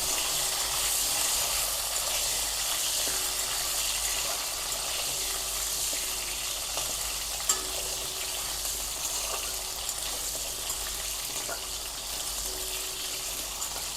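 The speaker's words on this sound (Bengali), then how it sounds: "এবার আলুগুলো একটু ভালো করে ভেজে নেব।" Potatoes for a soybean and potato curry fry in a pan, a steady broad sizzling hiss with faint crackles and pops, continuous and fairly close with no talking.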